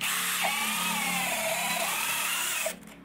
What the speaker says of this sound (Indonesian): Ini mata bor auger bit, diameter 25 mili, medianya kayu meranti.